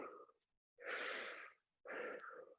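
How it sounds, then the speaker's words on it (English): Deep breaths during a breathing exercise, three slow, airy, close-up breaths separated by brief silences, with no talking. "you do a big deep breath while you're facing forward, and then you're gonna turn over to your side and you breathe out"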